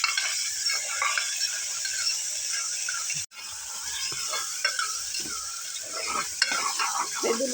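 Onion, green chilli and ginger-garlic paste fry in a generous amount of oil, a close, steady sizzle with soft stirring scrapes running throughout and a short break near the middle.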